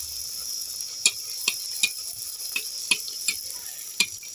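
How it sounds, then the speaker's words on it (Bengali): Semolina and potato masala puris deep-frying one at a time in hot oil give a steady close sizzle, broken by sharp crackling pops about every half second, with no talking. "সুজির মশলা পুরিগুলো ভেজে নিচ্ছি।"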